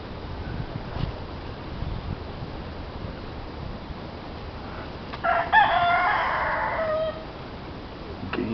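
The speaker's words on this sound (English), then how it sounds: "A rooster in the background." A rooster crows once at a nature centre, a clear, drawn-out call of about two seconds standing out over steady wind and outdoor background noise.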